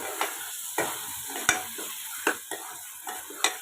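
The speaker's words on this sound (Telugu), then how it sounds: "మనం ముందుగా వేయించి పెట్టుకున్న ఈ మష్రూమ్ ముక్కలని ఇందులో వేసుకోవాలి" Pre-fried mushroom pieces stirred in hot oil in a pan, with quiet intermittent sizzling and a series of sharp utensil scrapes and taps spaced about half a second apart, no talking.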